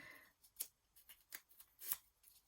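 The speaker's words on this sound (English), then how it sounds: "I will cut these down so that they all fit nicer" Scissors trimming paper patchwork pieces for DIY journal cards, a run of quiet, close, crisp snips spaced unevenly, with a few stronger cuts standing out against near silence.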